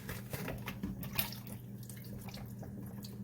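Water is poured into a pot of spaghetti sauce and swished around, a soft, close sloshing and dripping that stays faint and uneven throughout.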